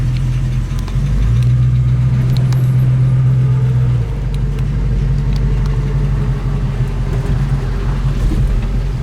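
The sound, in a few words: 1966 Ford Mustang Fastback engine running, possible exhaust leak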